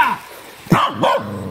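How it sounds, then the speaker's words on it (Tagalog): A dog gives a couple of short, close barks, one sharp yap followed by another bark. "Ang aso ni Lolo Jimmy, si Frontier."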